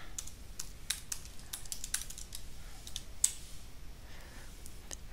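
Password being typed on a computer keyboard on a Mac: a quiet run of irregular key clicks, some taps sharper than others, with no talking.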